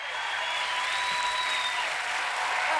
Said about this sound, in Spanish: Un aplauso para Michael Jordan.